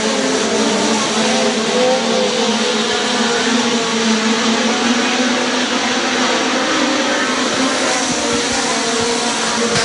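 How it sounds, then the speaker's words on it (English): Midget race cars at speed on a racetrack during a 40-lap A-main feature race, a continuous loud engine roar with dense, steady buzzing tones and no let-up across the whole stretch. "Tanner Thorson, Chad Boat, top 3 cars continuing to break away from the field."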